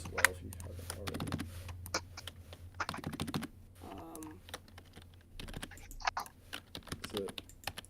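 Rapid, irregular clicking of computer keyboard keys during an online match, close and fairly quiet, with bursts of keystrokes over a low steady hum and occasional background voices.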